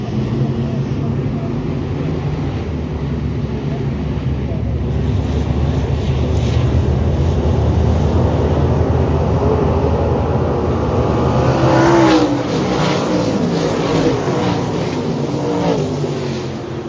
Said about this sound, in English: Stock cars are rolling out now for the first feature of the night.